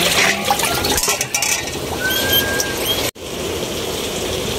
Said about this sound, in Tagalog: Naririnig nyo ba mga kananay ang lakas ng ulan?